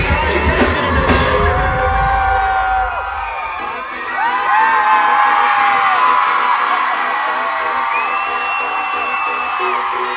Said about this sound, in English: I'll be inserting a clip of the screaming, including me